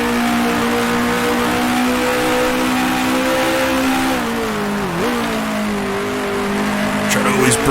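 A 1966 Formula One car in Grand Prix Legends runs at a steady loud engine drone, the pitch dropping sharply in a downshift midway, then settling lower with faint tire noise at the end; someone talks over it.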